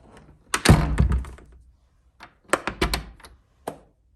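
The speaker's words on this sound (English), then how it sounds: "when you need to lock the door" Electronic door lock engaged from inside a door, producing a cluster of loud, close mechanical thunks and clacks, a short pause, then another rapid series of clicks and a final knock.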